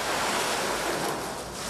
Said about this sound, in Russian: Это обычная помпа, которая откачивает воду.